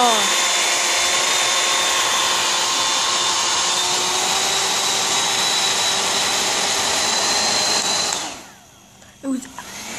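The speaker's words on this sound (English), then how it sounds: "If you have a hair dryer like this and you push the button, it gets cool, but you have to hold it down." A handheld hair dryer blows with a loud, steady whooshing roar and a high motor whine, running continuously before cutting off near the end, followed by a brief handling clunk.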